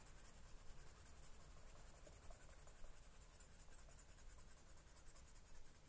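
Steady soft scratching of a pencil coloring on paper pages of a greyscale animal coloring book, close and quiet, continuing without pause and with no talk.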